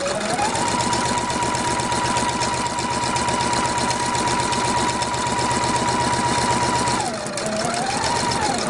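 A sewing machine runs steadily in a long continuous straight stitch at 2.5 mm length while sewing a skirt seam, with a near, even mechanical whir that dips briefly near the end before resuming.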